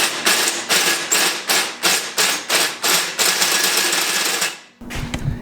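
Loud, rapid grinding of a hole saw biting into pipe on a twin-turbo Malibu, pulsing in a steady rhythm of about a dozen strokes before cutting off abruptly.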